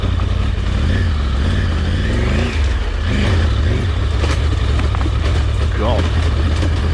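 An off-road motorcycle engine revs loudly and steadily as the rider works the clutch to keep momentum over a rocky coast-to-coast trail, with the drone close and continuous and pitch rising and falling throughout.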